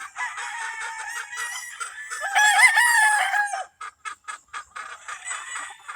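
Fighting roosters on a provincial farm: one bird gives a loud, drawn-out crow close by, then a quick series of short, sharp clucks follows in a choppy rhythm.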